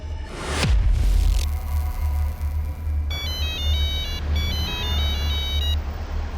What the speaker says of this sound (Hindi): अच्छा पापा को फोन लगाए?